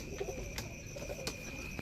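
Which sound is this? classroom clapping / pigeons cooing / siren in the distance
pigeons cooing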